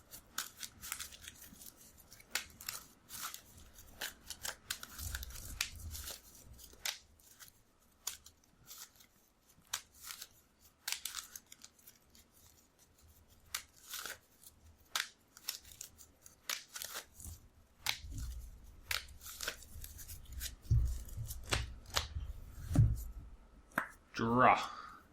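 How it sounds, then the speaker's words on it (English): Magic: The Gathering cards being shuffled during a casual game, giving repeated crisp riffling and snapping bursts up close, with quiet talk between them and a louder run of shuffling near the end. "Yeah, we're gonna shuffle."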